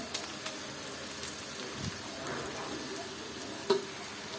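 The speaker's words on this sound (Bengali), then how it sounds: "আর এটাকে আমি নেড়ে চেড়ে দিলাম।" Boiled noodles with packet spice mix stirred in a hot pan for spicy lemon noodles, a soft constant sizzle under a few light utensil taps, close and fairly quiet, no voices.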